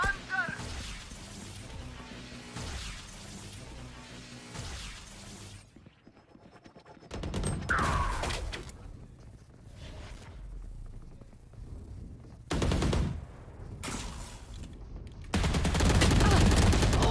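Valorant gunfire from a pro match between DRX and BLG: loud bursts of rapid shots come in clusters with quieter gaps between them, over a dense bed of game sound and talk.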